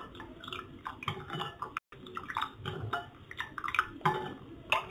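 Spoon scraping and clinking in a bowl as sugar, salt and buttermilk are stirred together for kadi, a steady, faint run of soft knocks and liquid swishes up close.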